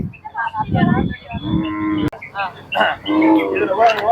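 Cattle at a native-breed livestock market in Kannapuram low and moo loudly and close by, two or three long calls in quick succession with no talk over them.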